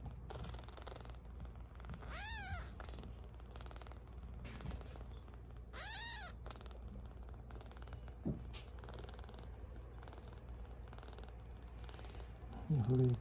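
A 20-day-old rescued kitten weighing 320 g, umbilical cord still attached, purrs steadily up close, with two clear high meows cutting in and faint rustling nearby.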